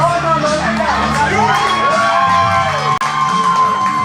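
Dense crowd cheering, whooping and shouting at a tag team wrestling event, loud and continuous with excited high voices throughout and a brief dip near the end.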